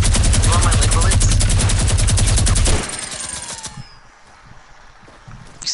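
Rapid automatic gunfire from a PS4 video game rattles loud and continuous for nearly three seconds, then cuts off, leaving quieter game sounds with a few faint later shots.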